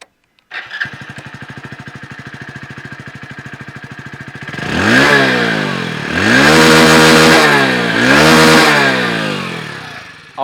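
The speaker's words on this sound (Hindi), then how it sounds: "और ये है स्प्लेंडर की आवाज़।" Hero Splendor Xtec 2.0 motorcycle engine starts with a short burst, ticks over evenly, then is revved hard in three rising-and-falling swells, loud and close, with no talking.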